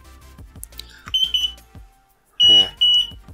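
An Arduino flood detector's buzzer alarm gives bright, piercing beeps, two loud bursts near the end after shorter tones earlier, with electronic chirps and a voice talking between them.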